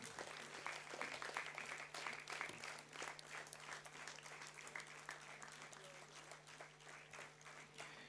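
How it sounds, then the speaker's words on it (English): Steady applause from a crowd at a university convocation ceremony, dense overlapping claps that keep a constant level throughout, with a faint hum beneath. "Keep it going, ladies and gentlemen. Keep the applause going."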